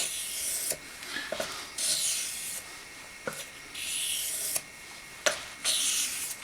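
Repeated long rasping strokes of a smiling wedge straight razor drawn across a hone, each steady swipe separated by short pauses, close and clear with no talking.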